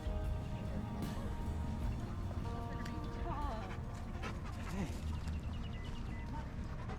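A dog named Sarge pants and whimpers at a park, soft high whines and breathy panting close by, with people talking over it.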